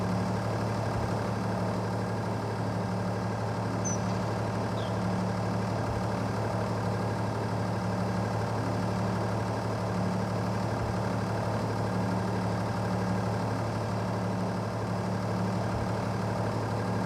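A tractor engine idles steadily before towing a Jeep, giving a constant low, even rumble that holds unchanged throughout with no talk.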